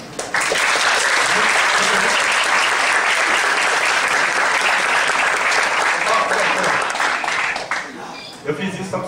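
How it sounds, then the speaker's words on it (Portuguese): An audience claps and cheers loudly and continuously for about eight seconds, a dense sustained applause that tapers off at the end. "Eu fiz isso só para você bater palma agora e depois."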